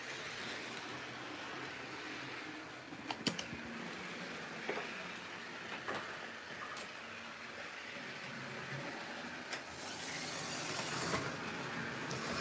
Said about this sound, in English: I'm actually gonna run 2 trains at the same time.